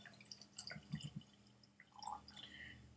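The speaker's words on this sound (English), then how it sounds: "Let's just pour it." Scotch whisky from a small advent-calendar bottle trickles into a glass in a few soft glugs and drips, close and quiet in a still room.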